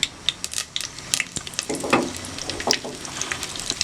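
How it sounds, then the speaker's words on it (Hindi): Red chillies and cumin sautéing in hot oil during home lunch cooking give a steady sizzle, broken by repeated close clinks and scrapes of a spoon against the pan. "लाल मिर्च सौते होना शुरू हो चुकी भी है"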